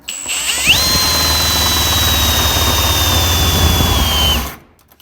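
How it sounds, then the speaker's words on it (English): A battery drill fitted with a small wire wheel scours rust from a 1950 Plymouth quarter panel, spinning up into a loud, steady high whine that holds for several seconds, then winds down and stops. "So that little wire wheel is nice because it fits inside all these little areas here."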